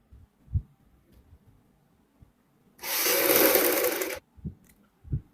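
A sewing machine runs a single steady burst of stitching, about a second and a half, along the neckline of a suit remade from an old embroidered one, with a few faint handling taps before and after.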